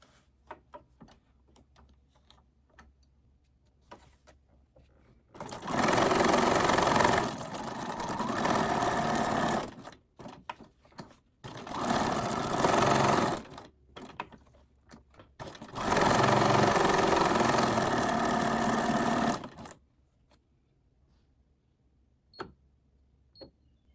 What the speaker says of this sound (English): Now I'm going to go to a straight stitch, and I am making that stitch length longer because we are sewing on paper.